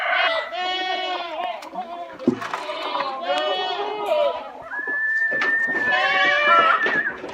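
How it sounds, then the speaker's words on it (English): Several goats bleat loudly and repeatedly, their wavering cries overlapping close by, with a person's voice mixed in among them. "Come on, goats."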